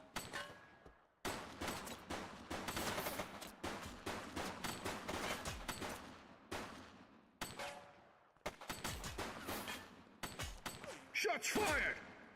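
Gunfire in the video game The Precinct: repeated rapid bursts of automatic fire crackle in clusters separated by short gaps, with a few sharper single shots and a thud near the end.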